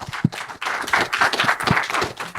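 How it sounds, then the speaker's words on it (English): Audience applause at a tech conference panel on sustainability in AV, a sustained burst of many hands clapping, close and loud, steady for a couple of seconds with no talking. "Give these guys a round of applause."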